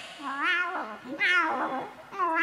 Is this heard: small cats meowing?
yes